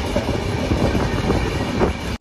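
A Pawan Express train runs along the track, heard from inside a crowded sleeper coach as a loud, steady rumble with rhythmic clickety-clack of wheels over rail joints, close and continuous.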